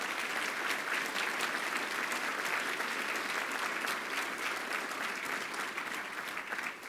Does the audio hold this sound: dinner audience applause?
yes